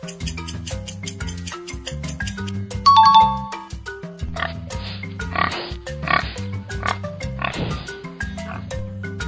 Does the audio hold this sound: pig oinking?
yes